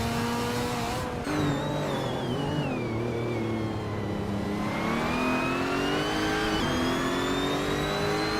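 In a video game, a pack of race cars, including a 2017 Mazda RT24-P LMP2 prototype, launches at the start on Seattle Circuit Reverse. Loud, overlapping engine whines rise and shift pitch through gear changes, sustained and near, with no talk.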